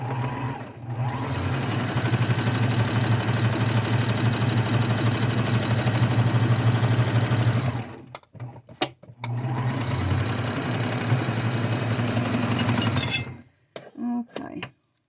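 A sewing machine runs in a fast, steady stitching whir, close and loud, for about eight seconds, stops briefly, then stitches again before halting with a few clicks.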